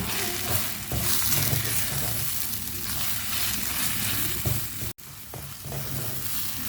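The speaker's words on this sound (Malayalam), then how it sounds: "ഇനി നമുക്കിതൊന്ന് മിക്സ് ചെയ്ത് കൊടുക്കാം." Egg fries in a pan, loud and close, with a constant crackling sizzle and repeated scraping as it is stirred, broken by a brief dropout near the end.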